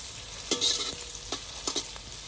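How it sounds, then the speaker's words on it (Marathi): Onion being sautéed and stirred in a pan, a steady frying sizzle broken by a few scraping stirs of a spoon, close and without any talk. "कांदा चांगला परतून घ्यायचा"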